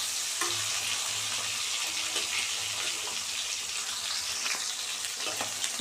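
Fish and potatoes frying in a pan in an Assamese home kitchen, a steady close crackling sizzle with soft pops and bubbling oil and no talking.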